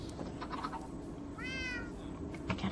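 A single drawn-out cat meow rises and falls midway, fairly close, over a steady background hiss and low rumble.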